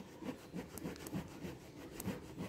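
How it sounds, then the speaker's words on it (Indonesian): Sandpaper rubs back and forth over a rubber tire before a patch is glued on, a faint rhythmic scraping of about eight quick strokes in a steady cadence, close by and with no talking. "Yang pertama kita amplas bagian yang mau kita lem"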